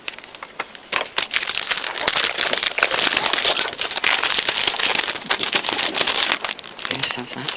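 Plastic wrapping crinkles and crackles as it is peeled off a new Apple keyboard during unboxing, a busy close rustle running almost continuously, with a person talking over it.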